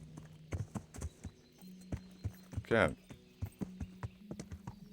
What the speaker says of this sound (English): let's mount this horse and trot off out of Talmberg